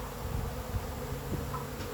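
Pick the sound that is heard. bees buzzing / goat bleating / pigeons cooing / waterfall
bees buzzing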